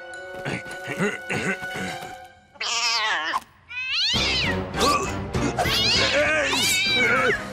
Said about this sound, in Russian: Мяу!